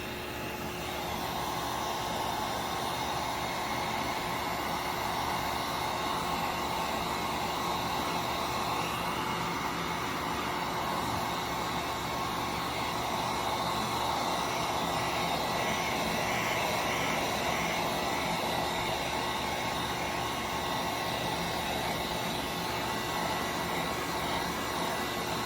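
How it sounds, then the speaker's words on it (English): A heat gun blows hot air over a Galax RTX 4090 HOF OC Labs graphics card to evaporate rubbing alcohol, a close, loud, constant whooshing roar with no pauses. "now I'm going to come back in with the heat gun to make the rubbing alcohol evaporate"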